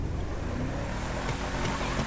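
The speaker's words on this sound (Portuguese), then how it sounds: "O somzinho aqui, como vocês podem ver, é o som do carro a diesel" Diesel engine of a Vapid Guardian truck idling in GTA 5, a steady low rumble that runs continuously at close range with a few faint knocks near the end, and no voices over it.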